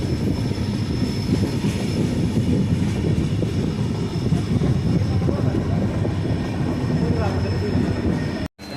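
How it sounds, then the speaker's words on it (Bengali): The NJP to APDJ Tourist Express, train 15777, rolling into Chalsa station, a steady loud rumble and clatter of wheels on rails held throughout, ending abruptly. "নিজের যাত্রাপথের 62 কিলোমিটার পথ অতিক্রম করে চালসা স্টেশনে এসে পৌঁছালো।"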